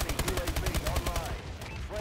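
Rapid shotgun gunfire in a first-person shooter game, dense repeated blasts packed together over steady game noise, loud and close throughout with a busy mix of reports.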